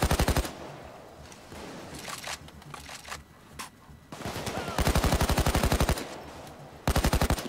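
Rapid automatic rifle fire from a heavy, beefy rifle in the heist game Payday 2, coming in loud sustained bursts separated by quieter stretches of scattered shots and game noise.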